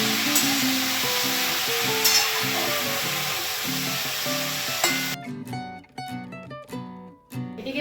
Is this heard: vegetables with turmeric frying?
yes